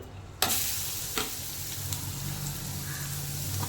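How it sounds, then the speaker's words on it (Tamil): Grated beetroot frying in ghee, a steady close sizzle with a sharp clatter of a spoon or utensil at the start and a few lighter stirring knocks throughout. "இப்போ நான் மீடியம் சைஸ் பீட்ரூட் 3 துருவி வச்சுருக்கேங்க. 1/4 கிலோ பீட்ரூட்டுங்க. இப்போ நான் இந்த நெய்யில் போட்டுக்கலாங்க."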